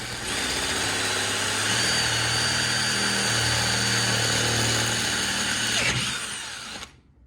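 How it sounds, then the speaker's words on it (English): A power drill with a 10mm bit bores into a carbon fibre engine mount for a 2000 Yamaha YZ250, a steady loud whine held for several seconds before spinning down to silence. "Now I'll switch to the 10mm drill bit."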